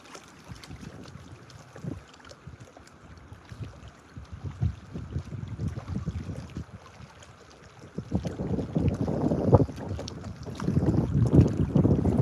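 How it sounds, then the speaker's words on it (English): Wind blows outdoors by the water at an Ontario fishing spot, rumbling across the microphone in uneven gusts that swell louder toward the end, with a tripod swaying in it. "Tripod swaying in the wind a bit, but it's working."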